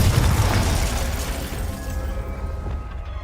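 A Confringo fire spell from Hogwarts Legacy explodes with a loud, close booming burst, then a rumbling blast decays over a few seconds into a fainter crackling tail.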